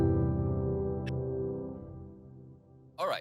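A low, narrowly voiced chord stacked with thirds and fifths and no root notes rings out and slowly decays, muddy and unbalanced, with a faint click partway through and a brief noise at the end.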